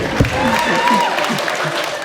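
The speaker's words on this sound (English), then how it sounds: "Thank you for clapping. I love the one clapper." A lone audience member claps at a comedy show, steady close handclaps standing out in a quiet room under faint crowd murmur.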